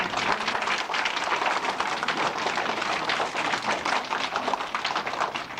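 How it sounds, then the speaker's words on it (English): A graduation-ceremony audience claps for the teachers at a fifth-grade graduation, steady dense applause filling the room without a break, fairly loud and close. "Let's introduce our teachers and give them a round of applause."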